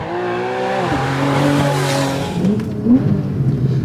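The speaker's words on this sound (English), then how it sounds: "I'm gonna go to sport now. So the exhaust opens up, power down's really good. Listen to the RPMs." A Porsche engine in sport mode with the exhaust open revs up, drops, then climbs again with a sharp rasping exhaust note and a brief tire chirp, loud and close.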